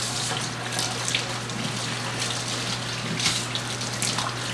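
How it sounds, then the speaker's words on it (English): Water runs from a kitchen sink tap while hands are washed during chicken noodle stew preparation, a steady hissing flow with a low hum beneath and no talking. "I'm gonna wash my little hands off here again"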